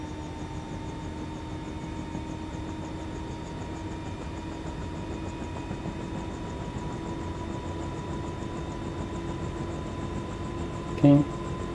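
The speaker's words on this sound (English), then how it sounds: "the helicopter has pretty nice sounds" Bell 206L3 helicopter engine in the MSFS 2024 flight simulator, a steady, even turbine whine and drone with constant tones throughout, alone without talk apart from a brief click near the end.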